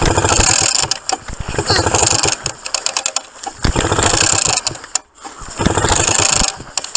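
A paramotor's small two-stroke engine starts and runs, with a loud, close, buzzing rattle that rises and falls as the throttle changes and cuts out briefly near the end before picking up again.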